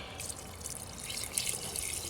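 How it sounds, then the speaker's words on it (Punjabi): Leftover water poured into a pan of pakora curry: a faint, continuous watery splash and trickle over about two seconds, with no talking. "ਬਾਕੀ ਬਚਿਆ ਪਾਣੀ ਵੀ ਪਾ ਦਈਏ"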